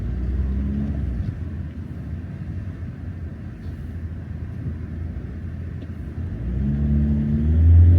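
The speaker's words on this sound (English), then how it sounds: "So for a big van, it does pick up well." A 2025 Ford Transit 130ps automatic van accelerating, a low steady engine rumble heard from inside the cab that swells louder toward the end as it picks up speed.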